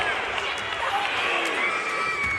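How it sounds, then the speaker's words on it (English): Crowd at a televised women's wrestling match at Collision's Fyter Fest, a steady dense roar of cheering and shouting that carries on without a break and fills the arena. "there are some people that grab the energy of the crowd, and Willow is one that uses the crowd."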